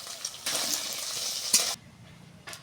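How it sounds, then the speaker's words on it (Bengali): Hot oil sizzles loudly for about a second, with a sharp clink midway. Then it drops back to a quieter hiss and gives a short final burst. "তেল গরম হয়ে গেছে, এবারে এগুলো ভেজে নেব।"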